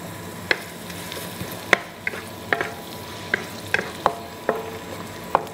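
A steady sizzle of garlic and black beans frying in a pan, dotted with sharp crackling pops at irregular intervals, close and moderately loud with no talking.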